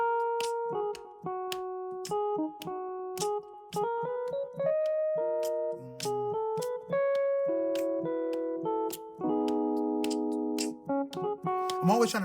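Solo piano carries a melody over chords played underneath, steady and close, notes ringing in clear succession with no voice.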